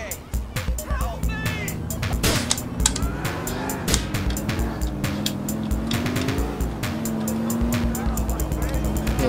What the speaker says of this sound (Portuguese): O carro tá aqui, ó.